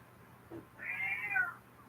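A cat meows once, drawn out and fairly close, after a brief soft sound, against a quiet indoor background.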